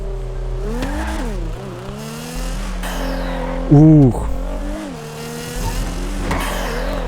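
Nissan GT-R R35 engine revving in GTA 5, rising and falling through several throttle blips with a sharp peak mid-clip, heard under someone talking and a brief exclamation.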